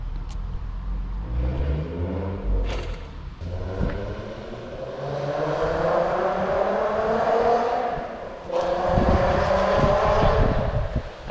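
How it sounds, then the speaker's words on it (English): Straight-piped, decatted VW Golf R32 pulling away and looping the block, its loud raspy exhaust rising and falling through gear changes with a droning pull in the middle and a surge near the end. "They're just gonna take you for a little rip around the block."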